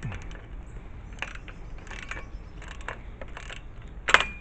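A ratchet tightens the fittings on a two-foot chain link fence extension, giving short bursts of rapid clicking at a steady pace, then one sharper metallic click near the end.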